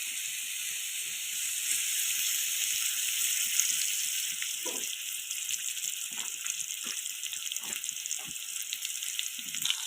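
Cumin seeds and four dried red chillies sizzle and crackle steadily in hot oil for upma, a close, continuous frying hiss with scattered pops and no talk.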